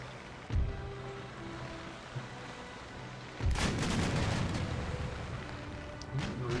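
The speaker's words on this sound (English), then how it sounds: "Receiving some return fire." Ship cannons fire in Empire: Total War naval combat: a deep boom early, then a heavier rolling volley of blasts with crackling debris, heard at a moderate distance over a low ambient rumble.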